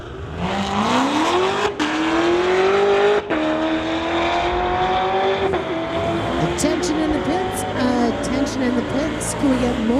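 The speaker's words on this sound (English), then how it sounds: "Don Yasugi in the 2008 Mustang called the Blue Water Project, going against John Cussman." A 2008 Mustang drag races a 2016 Corvette at a street-legal drag event. Loud, sustained engine roar rises in pitch through the gear changes, with brief dips between shifts, and a track announcer talks over it.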